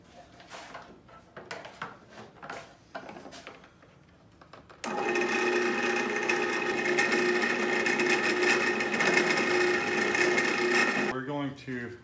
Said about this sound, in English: going to drill all of your attachment points.